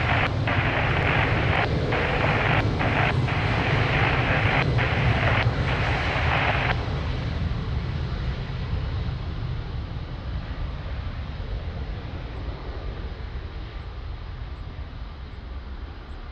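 Airliner taking off from runway 02 at Lisbon Airport, a loud, steady engine roar heard from a distance with some wind buffeting, slowly easing as the aircraft climbs away.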